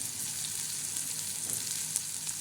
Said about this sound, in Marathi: हे बघा चांगला खमंग असा तडका बसलेला आहे